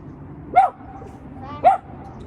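Two short, sharp dog barks about a second apart, fairly close and loud over a quiet background hum.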